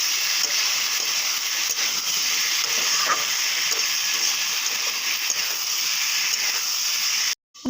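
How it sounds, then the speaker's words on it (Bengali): Ground spice paste frying in a pan with potatoes, a steady hissing sizzle that holds evenly and cuts off abruptly near the end, close and unbroken by talk. "তারপর বেটে রাখা মশলাগুলো দিয়ে দেবো।"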